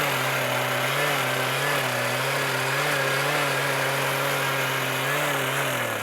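A trenching machine engine runs at full throttle while digging a cable trench through soft dirt, a steady, droning roar held close and constant with a faint wavering pitch.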